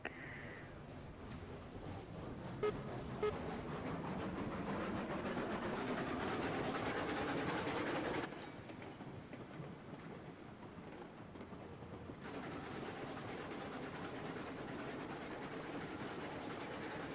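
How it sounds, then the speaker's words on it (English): A train rolls forward with a continuous rumbling, rattling roar that holds steady, then drops in level partway through and builds again, with a few faint clicks and no voices. "I got to go forward with the train"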